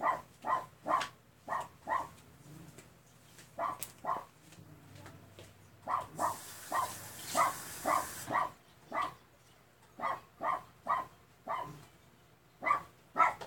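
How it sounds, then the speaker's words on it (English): A dog barks outside in steady bursts, sharp repeated woofs grouped in quick runs with short pauses, moderately loud and somewhat distant, no talking. "Still hear him barking"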